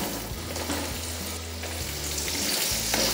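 Chopped raw mango drops into a pan of spices and turmeric frying in oil for a sweet-sour chutney, setting off a loud, steady sizzle with scraping stirs close by.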